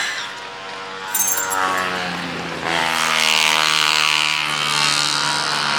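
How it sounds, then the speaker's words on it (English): Two-stroke mopeds ride past on a street, their buzzing engines swelling and lingering in a continuous, fairly loud whine that shifts in pitch as they pass. "So the moped gang are out."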